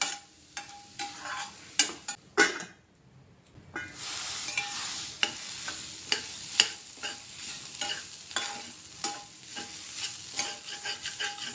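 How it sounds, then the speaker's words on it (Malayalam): Snake gourd thoran cooking in a pan over low heat is stirred, producing a quiet bed of sizzling broken by irregular scraping and clicking strokes of the spoon, with a brief lull early on. "എന്നിട്ട് ഇടയ്ക്കിടയ്ക്ക് ഇങ്ങനെ ഇളക്കി കൊടുക്കുക."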